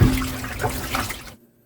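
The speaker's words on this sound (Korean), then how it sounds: "헹구면서 씻으시면 됩니다" Tap water runs steadily over radish greens being rinsed clean of soil, a close, continuous splashing gush that cuts off abruptly near the end.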